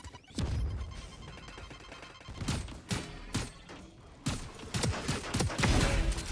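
Rapid gunfire in Valorant during a competitive match crackles in dense bursts of sharp cracks, with irregular clusters of shots stacking up loudly across the whole stretch amid game ambience.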